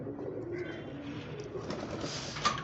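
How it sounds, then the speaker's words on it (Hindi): Kasuri pigeons cooing, soft low throaty coos that are faint and somewhat distant, over quiet outdoor background noise. "इनको ये कसूरी कबूतर ही कहते हैं।"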